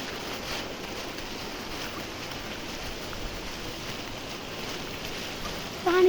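Water flows in a stream beside farm fields on a cloudy day, a steady, soft broadband rush that holds level throughout with a brief louder bump at the end.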